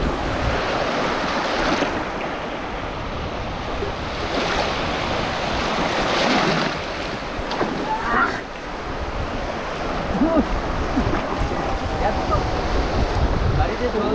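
Sea waves rolling in at Bakkhali Sea Beach, a loud, continuous surf roar mixed with strong wind buffeting the microphone, swelling and easing over the stretch.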